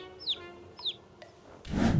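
Birds calling outdoors beside water: two short, bright chirping calls close by, then a click, and a swell of rushing wind or water noise at the end.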